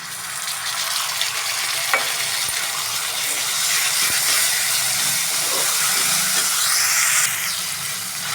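Onion and tomato sautéing in a pan on a high flame for cauliflower and peas bhaji: a loud, steady, close frying hiss with a few faint scrapes of stirring.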